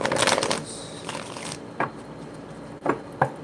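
Tarot cards are riffle-shuffled at a close distance for about a second and a half of dense papery fluttering. A few short, sharp card taps and snaps follow, with no talking.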